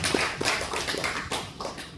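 A church congregation claps steadily through a lecture-series opening worship service on the Book of James, a dense, continuous patter of many hands filling the hall with no voices over it.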